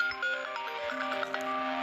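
A mobile phone ringtone chimes steadily indoors, a repeating melodic ring that carries on throughout without any voices over it.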